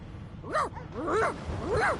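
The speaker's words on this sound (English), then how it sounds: "The dog whines and..." A dog in the video game Divinity: Original Sin 2 whines three times in quick succession, each a rising and falling high-pitched whimper, close and clear with no talk.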